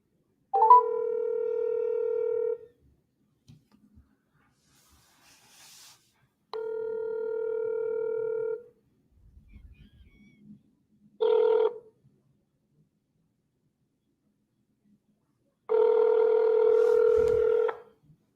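A telephone call placed to a sales lead: steady electronic dialing and ringback tones sound in separate long bursts with silent gaps between them, with a short chirp in the middle and no talking.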